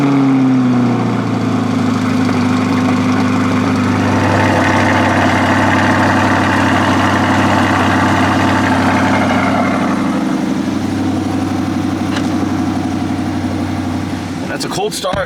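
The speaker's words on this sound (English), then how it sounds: "That's a cold start with a C8 in the morning." A 2021 Corvette C8 Stingray idles after a morning cold start, a loud, close, steady low rumble that holds evenly throughout, with a slight dip in pitch partway through and a brief rattle at the end.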